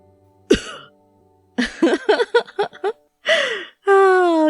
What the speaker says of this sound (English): Yanagi suddenly stood up, coughing.